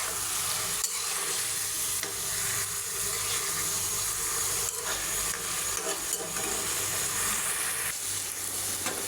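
Beef keema with boiled chana dal being stirred in a pan as the water cooks off, a steady close sizzle and scraping that runs the whole time, no voices.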